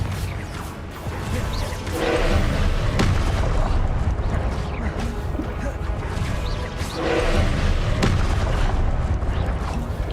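The Confringo spell in Hogwarts Legacy sets off heavy, booming game explosions and rumbling blasts. A player's voice calls out over the dense, continuous roar.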